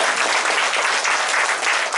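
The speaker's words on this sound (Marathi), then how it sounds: "टाळ्या वाजवा ना." A church congregation claps together at a Christmas Eve celebration, a dense, loud, continuous burst of applause from a crowd with no gaps.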